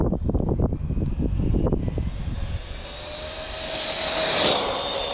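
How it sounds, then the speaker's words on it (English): Losi 22S RC short course truck on 4S power running at full throttle: a rough, loud buzz of motor and tyres up close gives way to a rising high-pitched electric whine that builds and fades as it passes. "That's full throttle."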